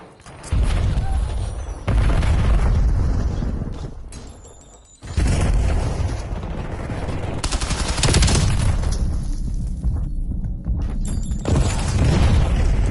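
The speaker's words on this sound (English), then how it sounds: "Why did my grenade blow me? I'm pretty sure that was my grenade." A grenade detonates in a video game shooter amid heavy gunfire, loud booming blasts and rapid shots filling nearly the whole stretch, with a brief dip in the middle before the roaring barrage resumes.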